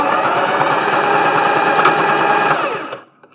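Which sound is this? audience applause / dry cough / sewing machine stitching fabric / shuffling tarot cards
sewing machine stitching fabric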